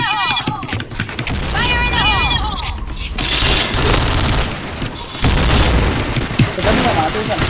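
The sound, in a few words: grenade explosion in video game Point Blank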